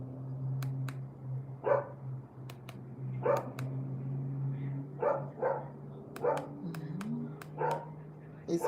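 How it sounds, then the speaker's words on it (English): Dog barking at intervals in the distance, several short separate barks over a steady low hum, while people talk nearby. "It is a dog here now."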